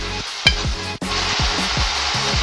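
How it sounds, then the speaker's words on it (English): Sauce for crispy sisig made with lechon kawali boils in a pan, giving off a steady, close sizzle and bubbling hiss with small repeated pops. "So let it boil."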